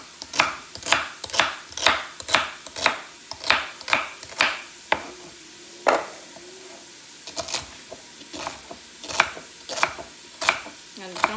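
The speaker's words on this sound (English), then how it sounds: "So I'm going to take these, the rest of my celery, give these a nice little rough chop." Celery is rough-chopped with a knife on a cutting board, a quick run of crisp, evenly spaced chops, a short pause, then more chopping in looser bursts, close and clear with no talking.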